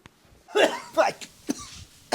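Several harsh coughs in quick succession after Cerakote spray painting, close and loud, with short pauses between bursts.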